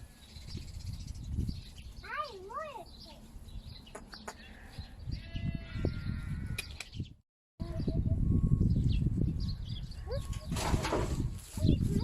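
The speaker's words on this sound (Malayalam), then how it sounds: "ഗൂഗുവിനെ കണ്ടപ്പോൾ ആടുകളെല്ലാം നേരെ എടുത്ത് ചാടിയൊക്കെയാണ് വേറെ ഡയറക്ഷനിലോട്ട് ഓടുന്നത്." A herd of goats bleating on a hillside farm at Vagamon, with wavering bleats near the start amid rustling and movement, people talking over it, a brief dropout and then louder scuffling as the animals run off.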